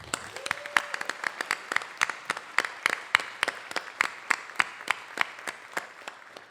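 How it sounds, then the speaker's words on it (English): A community appreciation celebration crowd gives a modest round of applause for a Kirkland Landmarks Commission representative, a fairly sparse run of distinct, close hand claps that continues steadily for several seconds. "Let's give a round of applause for our Kirkland Landmarks Commission representative"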